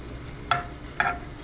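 Food browning in a pan for Sunday macaroni, heard as two short sharp sizzling scrapes of stirring about half a second apart over a steady low background hum.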